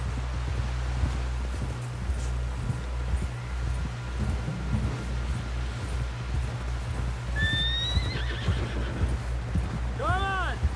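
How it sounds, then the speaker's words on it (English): Steady clip-clop of horse hooves over a low rumble, ending with a loud, wavering horse whinny near the close, in the video game Red Dead Redemption 2. "Someone help John down off this horse."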